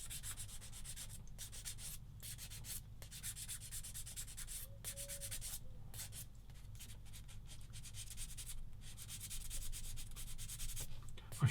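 Close, steady rasping of a sanding stick rubbing back and forth on a small part of a 1/35 scale submarine model kit, with brief pauses between strokes and a faint tone midway.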